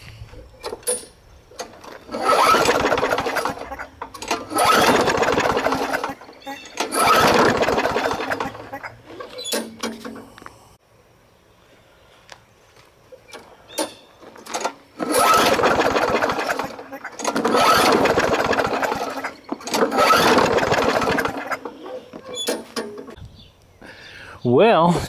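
A push lawn mower being repair-tested after three primer shots, its small engine sputtering through repeated loud pull-start bursts separated by quiet pauses, with a voice talking between attempts.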